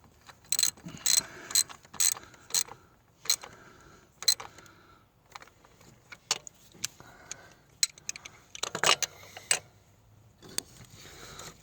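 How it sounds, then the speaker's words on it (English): Bursts of rapid socket ratchet clicking, close and fairly quiet, come in short runs separated by pauses, with a few metallic knocks between them, as an ignition coil bolt is tightened. "Grab your socket and ratchet and snug it up until it gets tight."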